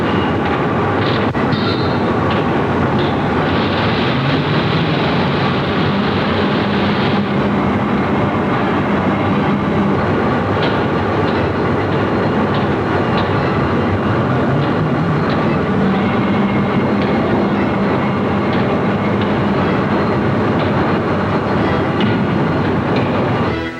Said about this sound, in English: The Yankee Clipper, now electrified, approaching the environs of New York